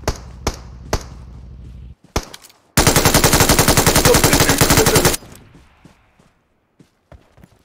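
Rapid automatic gunfire in the mobile battle-royale game PUBG Mobile, a loud sustained burst of about two and a half seconds following a few sharp single shots and softer in-game footsteps.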